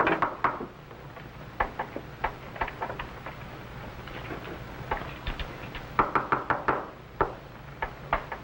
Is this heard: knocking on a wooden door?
yes